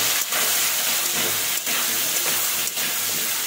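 Taro and potatoes fry in hot oil seasoned with panch phoron, giving a steady, loud sizzling hiss that holds throughout with brief dips.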